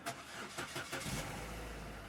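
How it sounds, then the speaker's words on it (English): A Chevrolet Cruze with fault codes P0171 and P0496 starts up: a brief cranking churn settles quickly into a steady low idle, heard close with no talk. "I'm gonna start the engine."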